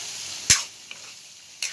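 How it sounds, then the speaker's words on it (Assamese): Paneer and chickpeas frying in a pan give off a steady close sizzle, broken by two sharp stirring scrapes, one near the middle and one near the end. "এনেকৈ লৈ ভাজি দিছোঁ।"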